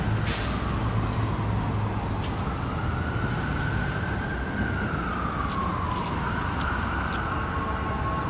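A distant ambulance siren wails on a city street in Toronto, its steady rising and falling tone carrying over constant traffic rumble, fairly faint and far off with no talking.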